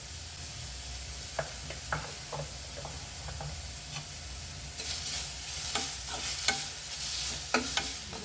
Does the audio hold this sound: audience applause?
no